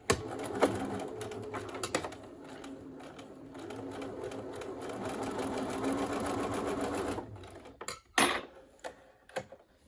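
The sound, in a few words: sewing machine stitching pleats of a fabric mask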